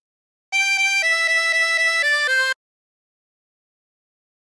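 Chromatic harmonica playing a short melodic phrase from She'll Be Coming Round the Mountain, about ten clean sustained notes in steady rhythm stepping through a few pitches, close and clear, then silence.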